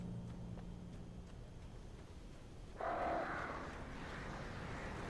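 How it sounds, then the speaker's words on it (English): Crows caw in the distance within the Alan Wake video game, faint and scattered over a low, steady ambient rumble, with one louder burst of noise partway through. "Birds."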